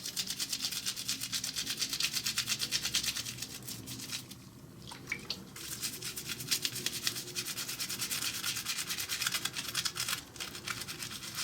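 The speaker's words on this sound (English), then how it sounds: "put it on the toothbrush as if you're brushing your teeth. and then just give it a nice scrub throughout the watch." A soapy plastic toothbrush scrubs a Rolex watch up close, making steady scratchy brushing strokes with a brief lull midway.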